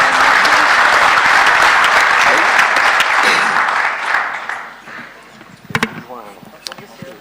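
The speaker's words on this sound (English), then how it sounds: "Et je pense qu'ils méritent un applaudissement parce que faut les réveiller là." Loud audience applause fills a hall at the FIRA 2018 agricultural forum, dense and sustained for about four seconds before tapering off, then a voice speaks over a few scattered claps and knocks.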